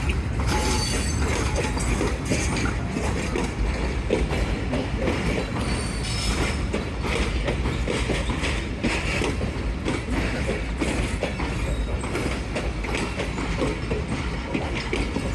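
Pak Business Express passenger train arriving at Lahore on a foggy day, a loud continuous rumble of rolling wagons with clattering wheels and squealing brakes, close by and steady throughout.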